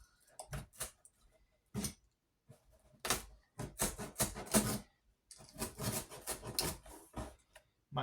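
A trusty knife cuts down the edges of material, heard as a series of short, close rasping scrapes and rubs in irregular bursts separated by brief pauses, with no talking.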